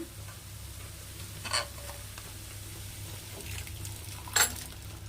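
Boiled vegetables are added to a frying pan and stirred, a soft steady sizzle with two brief scraping clatters of a utensil against the pan, close and quiet, without talk.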